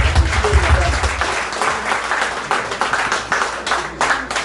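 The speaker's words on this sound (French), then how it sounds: "Applaudissez pour Clarisse." An audience at a surprise birthday party in Washington claps for a woman who decorated the venue, a dense, close round of applause with a low voice murmuring at the start.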